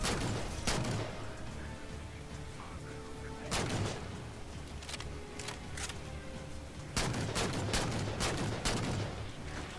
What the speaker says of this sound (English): I'm just kind of standing back, getting those shots on him and trying to take him out before he rushes me